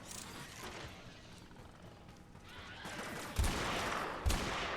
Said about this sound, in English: I like how you can no-scope with the sniper rifle so successfully